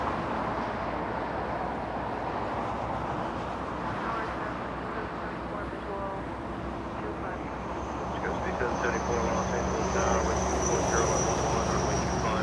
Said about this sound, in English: Company aircraft Lufthansa A340-300 after arriving a few minutes ago.